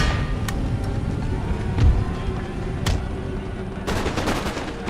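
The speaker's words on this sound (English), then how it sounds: "He is still using regular cannon fire, so that's his mistake." Cannon fire from a Total War: Empire battle booms in scattered shots over a dense, constant rumble of combat, with sharp reports punctuating the din and a thicker volley near the end.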